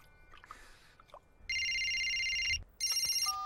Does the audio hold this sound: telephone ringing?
yes